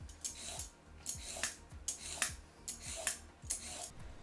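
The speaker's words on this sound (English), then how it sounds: "First, we'll start by peeling the carrots." A vegetable peeler scraping down carrots for a Vietnamese mango salad, producing about nine rhythmic close strokes, each a short rasping swipe, in a quiet kitchen with no voices.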